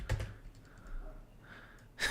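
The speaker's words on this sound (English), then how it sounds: "I was typing shit down." Keystrokes on a computer keyboard while working through Windows settings, a few quiet taps scattered across a couple of seconds with a louder burst at the start and end, no voice.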